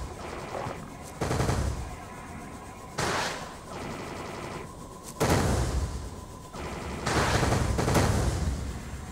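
Rapid video game gunfire in several loud bursts, bursts of automatic fire separated by brief lulls, with no talking.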